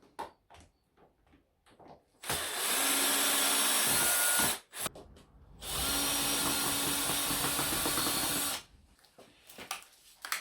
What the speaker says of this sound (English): First step, unscrew the mould.